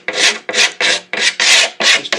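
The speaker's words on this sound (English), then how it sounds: "Just take a razor blade or a scraper and that will take care of that for you." A razor blade scraper shaves epoxy drips off a guitar body during pore filling, about seven loud, close rasping strokes in a quick, even rhythm with brief gaps between them.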